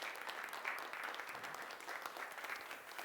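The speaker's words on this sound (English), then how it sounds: "round of applause for Kirsten for teaching us that." A room full of people applauding at a body language workshop, steady dense clapping throughout, fairly faint and heard from a distance.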